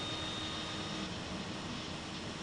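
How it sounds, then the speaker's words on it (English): The right engine of a DHC-6-300 Twin Otter runs up in the FSX flight simulator, a steady, dense whooshing roar that fills the whole moment without letting up. "Right engine comes up."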